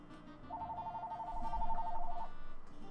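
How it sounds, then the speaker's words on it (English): A telephone rings in a steady electronic trill lasting almost two seconds, over a low background hum with some muffled thumps. "Where is this phone that's ringing?"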